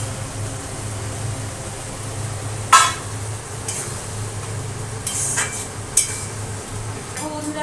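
Potatoes being added to a half-fried spice masala in a pan at home: a low steady sizzle with a few sharp clinks and clatters of utensils against the pan, some separated by a second or two.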